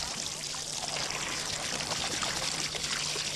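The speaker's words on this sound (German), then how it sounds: "wird es zu einem Drittel mit Wasser gefüllt." Water pours steadily into a garden pond basin, a continuous splashing rush with trickling texture, uninterrupted and moderately close.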